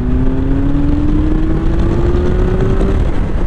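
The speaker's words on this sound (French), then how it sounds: "j'en profite avant de rendre sa moto à Laurent" A Yamaha XJR1300 motorcycle engine revs loudly and close, its pitch climbing slowly and steadily before easing off near the end.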